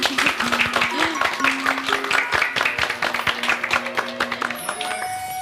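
An audience claps for Jalebi Bhabhi in a burst of rapid, close applause that runs through most of the moment beneath tonal music, then thins out toward the end.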